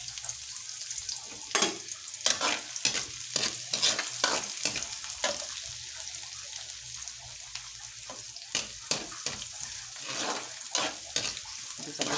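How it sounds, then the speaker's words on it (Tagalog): Chopped onions sauté in a hot pan ahead of the garlic, giving a steady close sizzle broken by repeated scraping stirs of a utensil, with no talking. "Pagisa ko ah. Inuuna ko kasi ang sibuyas o bago ang bawang."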